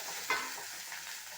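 Tomato and green chili fry in a pan with a steady, soft sizzle and a brief stirring scrape near the start, all close by and fairly quiet.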